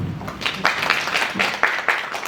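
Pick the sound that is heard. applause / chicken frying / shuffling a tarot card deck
applause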